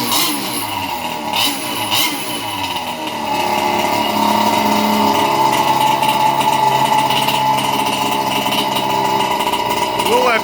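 The small gas engine of a Losi MTXL RC truck runs close by with a buzzy, raspy tone, rising after a few seconds into a steady high idle that holds.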